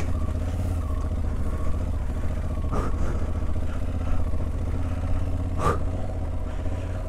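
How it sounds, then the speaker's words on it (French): A motorcycle rides a rough, rutted dirt track, its engine droning steadily with low rumble and rattling clatter, with a couple of sharp jolts as the bike bounces through ruts. "C'était la moto, impossible à guider."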